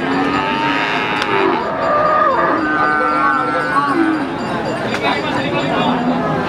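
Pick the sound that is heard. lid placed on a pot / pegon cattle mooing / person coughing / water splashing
pegon cattle mooing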